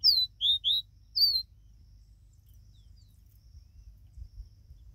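A caboclinho seedeater in a cage gives a short burst of about five high, sweet chirps, the last one separate, then falls quiet over a low background hum.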